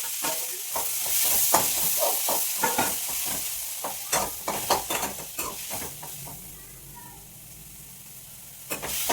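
Tomato curry base sautéing in hot coconut oil, a steady sizzle broken by repeated scraping strokes of a spoon against the pan, close and moderately loud, quieting toward the end.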